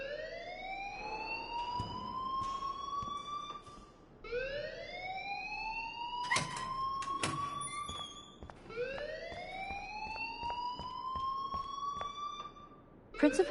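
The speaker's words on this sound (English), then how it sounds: "please turn off that alarm since that's your job" A shrill alarm in the video game Life is Strange sounds in repeated rising siren-like sweeps, about three long wails, loud and steady with sharp clanks cutting through.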